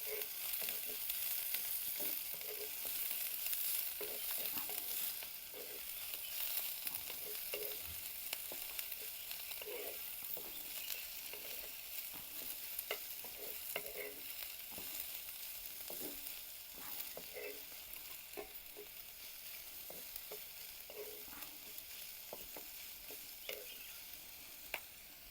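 Onion and green chili sizzle steadily in a pan for a drumstick flower bhaji, with a soft constant frying hiss and scattered clinks and scrapes of stirring throughout.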